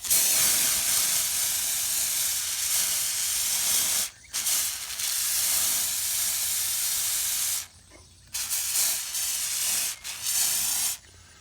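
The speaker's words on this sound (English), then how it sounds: "let's put some WD gel on there" A WD aerosol can sprays onto a metal disc blade in a loud, continuous hiss, broken by a few short pauses as the nozzle is released and pressed again.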